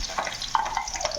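Onion and ginger-garlic paste sizzling in hot oil in a kadhai, a steady close crackle with a few louder pops and stirring scrapes, no voices.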